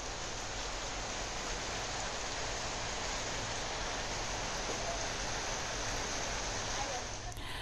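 Heavy monsoon rain pours down in Bhiwandi around Chhatrapati Shivaji Maharaj Chowk, a dense, unbroken roar of falling water with no let-up.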